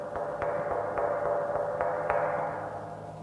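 Several knocks on a large hydrogen storage tank of about 34 cubic meters, each tap giving a hollow, resonant ring that hangs and overlaps with a steady hum, spaced irregularly and fairly close.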